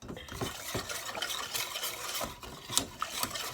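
Milk being whisked into a sauce in a pan for a chicken pasta bake, heard as quick repeated whisk and metal scrapes against the pan, fairly faint and continuous with no talk.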